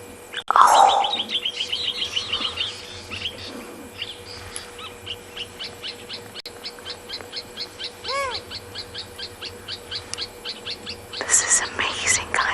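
Owls call repeatedly at an African safari site, a rapid series of short, regular chirping hoots at moderate distance, with a louder burst near the start and hushed talk underneath.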